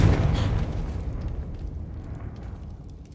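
A fiery Confringo blast spell in Hogwarts Legacy bursts loudly at the start, then its rumbling roar tails off gradually over a few seconds, with no voices.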